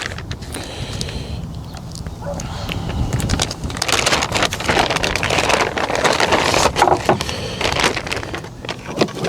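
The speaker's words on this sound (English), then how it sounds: "Breezy today" Outdoor wind buffets a microphone in a steady, rough rumble that swells and gusts, louder toward the middle, with no talking.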